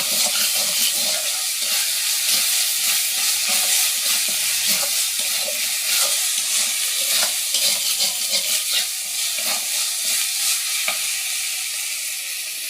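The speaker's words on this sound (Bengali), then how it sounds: "এই যে মাছ ভাজার জন্য আমি এই যে মশলা কষাই নিচ্ছি" Spice paste with green chillies stir-fried in oil in a pan, ready for frying fish, making a loud continuous sizzle with crackles and scraping stirs and no voices.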